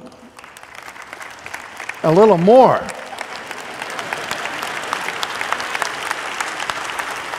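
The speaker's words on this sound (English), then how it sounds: "this applause is a nice kind of thing" A church congregation applauds during a Presbyterian sermon, a brief spoken phrase cutting in before the clapping swells into a broad, steady wash that carries on to the end.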